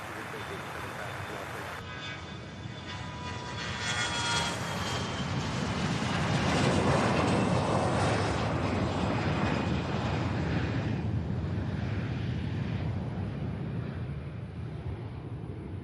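An airliner on the Charlotte flight takes off at SDF in Louisville, its engine roar swelling in the middle and then easing as it climbs away.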